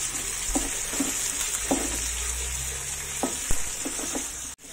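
Sliced big onions and shallots sizzle steadily in hot oil for a shrimp in tomato sauce dish, with the fry hiss close and constant and a few soft stirring scrapes scattered through, and no talk.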